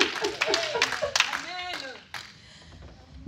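A church congregation breaks into applause for Jesus, a dense wash of many hands clapping briefly and loudly under a preacher's voice, fading within a couple of seconds.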